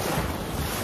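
Ocean waves at a beach in Mexico, a faint continuous wash of surf mixed with wind rumbling across the microphone, with no voices.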